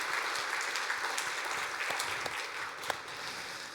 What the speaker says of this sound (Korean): 우리 함께 힘차게 축하의 박수 한번 하도록 하겠습니다